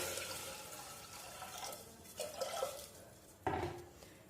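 Water pours into a metal pot of washed lentils being readied for dal fry, a soft running splash with a few clinks of the pot, faint and close, with no talk.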